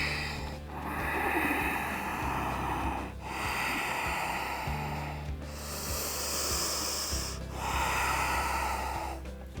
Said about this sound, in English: Continuously breathing.